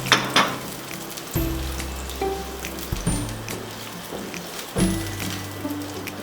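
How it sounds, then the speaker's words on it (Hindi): Chopped onions sizzling and frying in hot cooking oil, a steady crackling hiss with occasional louder bursts and stirring clatter, close and without talk. "इसमें हमने 1 प्याली डालनी है कटी हुई प्याज"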